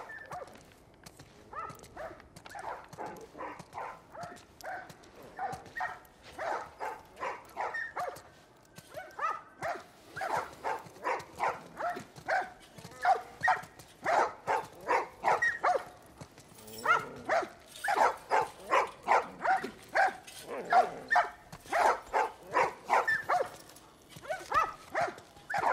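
A dog in The Last of Us Part I barking in steady repeated yelps with whimpering between, moderately loud and close over a quiet game backdrop, continuing in regular bursts throughout.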